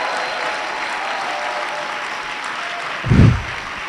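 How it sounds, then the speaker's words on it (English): Steady, dense applause fills a hall at an education summit and graduation ceremony as the crowd claps for a woman who trained the teachers, with a brief low thump near the end. "teachers, I think you should actually give her a very good round of applause"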